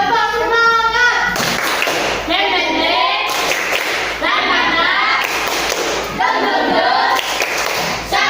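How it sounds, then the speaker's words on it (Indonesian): Children in a classroom doing a rhythmic clapping cheer, tepuk semangat: loud chanted voices with bursts of clapping in patterned groups, repeated several times up close. "Tepuk semangat."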